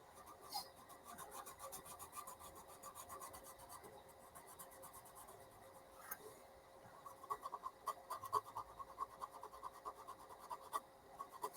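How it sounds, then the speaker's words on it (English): Sandpaper lightly rubbing along a seam on a beginner's build, giving a soft, steady scratchy rasp of repeated strokes that grows slightly sharper and more clustered toward the end, close but quiet. "you'll be able to hear when the seam is gone, because the sandpaper will sound different. It'll quit sounding scratchy."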